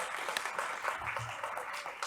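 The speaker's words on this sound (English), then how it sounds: "Yes, very big clap." An audience at a coastal hazard adaptation session claps, a moderately soft, continuous patter of many hands heard briefly.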